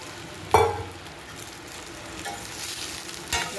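Pieces of idli hitting a hot pan with a sudden sharp sizzle, then a soft continuous frying hiss and a second brief clatter near the end.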